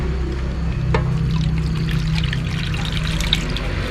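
Yanang leaf juice poured into a mushroom curry, a soft liquid trickle and pour close by over a low, steady background rumble, with no talking.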